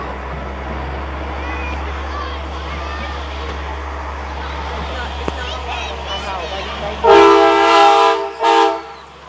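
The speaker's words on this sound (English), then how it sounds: "Sounds like a train coming through." Over a steady low rumble of traffic, a loud blaring truck horn sounds twice near the end, close and train-like, with a break between blasts, from a big rig in a parade.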